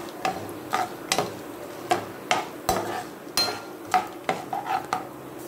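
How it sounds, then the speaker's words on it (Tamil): Peanuts frying in oil are stirred in a pan while temple-style tamarind rice is cooked. A metal spoon clinks and scrapes against the pan in a loose, repeated rhythm over a faint background hiss. "இதையும் நல்லா அந்த எண்ணெயிலே வந்து வதக்கி விடுங்க"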